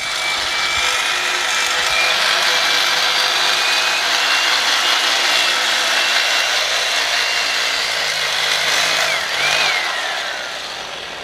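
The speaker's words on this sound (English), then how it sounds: "It's technically a breaking saw, but a splitting saw on this rig is completely impractical." A Jarvis power breaking saw cutting through a beef carcass during on-farm butchering, a loud continuous motorized buzzing whine that holds steady, shifts pitch slightly near the end and tapers off.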